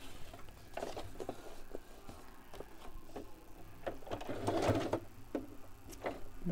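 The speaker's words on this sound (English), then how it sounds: "I'll just do a little bit of stitching across there" Sewing machine stitching across a large journaling card, quiet rapid ticking bursts of the needle with short pauses, close and soft, no talking.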